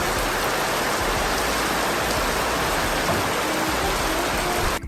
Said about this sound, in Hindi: और धीरे धीरे बारिश बढ़ती ही जा रही थी